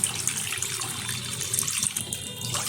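Milk pours from close by into semolina in a pan on low heat, a steady liquid splash and trickle that runs unbroken for a few seconds with no voices.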